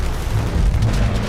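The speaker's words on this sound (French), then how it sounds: "Il y avait des explosions dans tous les sens." Heavy explosion sound effect, a dense, loud continuous rumble of blasts and booms filling the whole clip with no talking.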